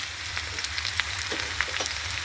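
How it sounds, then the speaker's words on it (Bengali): Potatoes and onions frying in a pan, giving a steady, close hiss and sizzle with small crackling pops throughout, no voices. "বন্ধুরা আলু পেঁয়াজটা ভাজা হয়ে গেছে"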